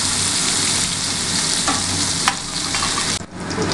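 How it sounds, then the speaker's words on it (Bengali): Onions frying in hot mustard oil in a pan while cooking brinjal with poppy seeds, a steady loud hiss and crackle of sizzling oil throughout, with a brief clatter near the end. "পেঁয়াজটাকে ভালো করে ফ্রাই করতে হবে।"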